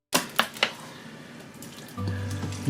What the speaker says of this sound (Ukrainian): Підливаємо сироватки.